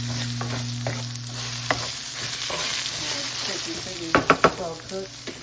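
Garlic and rice frying in a pan give a steady close sizzle, stirred now and then, with a few sharper scrapes and clatters near the end.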